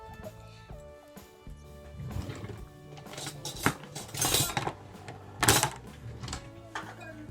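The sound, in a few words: removing pomegranate seeds into a big bowl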